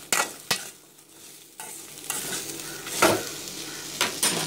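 Pepper paste sautéing in a pan for a pepper chicken curry, a steady close sizzle punctuated by several sharp scrapes and clinks of a spoon stirring against the metal, no voices.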